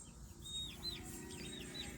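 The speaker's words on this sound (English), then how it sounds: "So these are the chickens I have left" Chickens in a backyard flock cluck softly at a distance while faint chirps rise over a low, steady background hum, with no one speaking.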